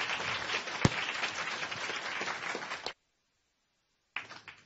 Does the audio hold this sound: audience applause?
yes